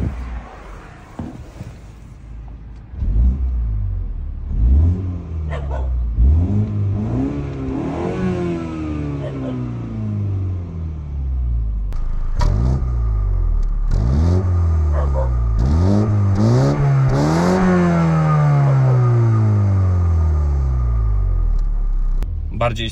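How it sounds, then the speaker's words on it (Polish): A Mini Countryman S engine revs repeatedly, pitch climbing and falling in several loud surges, with a dog barking and brief voices now and then. "Bardziej słyszę silnik z przodu niż z tyłu wydech."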